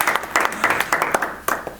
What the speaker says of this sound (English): I think you get a huge round of applause